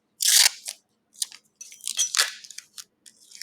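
A piece of tape peeled and torn off a roll in quick sharp rips and crackles, close and fairly loud with brief gaps between, no speech.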